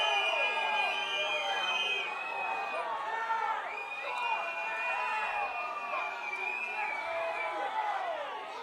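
A crowd at a Sarasota Paradise versus Fort Lauderdale United soccer match reacts to a foul with a steady murmur and scattered shouts and whistles, fairly distant and faint, with a voice speaking over it.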